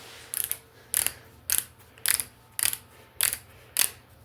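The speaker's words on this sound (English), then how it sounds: "So now we need to torque these bolts right here." Torque wrench ratcheting on small Ford 2.3 engine block bolts, seven evenly spaced sharp clicking bursts about half a second apart, close and clear over a quiet hum.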